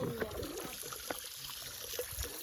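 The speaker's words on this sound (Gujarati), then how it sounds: "પાણી ચાલુ છે" Water runs and trickles into a swimming pool in a steady, soft, continuous flow with small splashy bursts, heard fairly close at low level.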